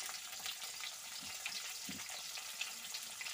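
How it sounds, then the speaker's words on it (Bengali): Potatoes fry in oil in a pan for a Bengali fish curry, a soft, continuous sizzle heard up close at low volume with no talking. "তো এবারে আমি আলুগুলো ভেজে নেব।"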